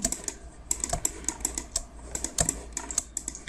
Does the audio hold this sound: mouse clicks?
yes